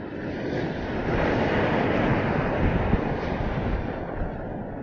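Strong outdoor wind roars steadily and loudly across the microphone, a dense continuous rush with no pauses, as a small drone flies nearby in the open.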